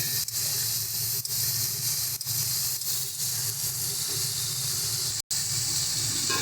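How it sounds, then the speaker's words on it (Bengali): Prawns frying in hot oil in a pan give a continuous, close hiss and sizzle that holds steady, with a brief cut near the end. "চিংড়ি মাছটা দেখো কিন্তু আমাদের ভালো মতন ভাজা হয়ে গেছে"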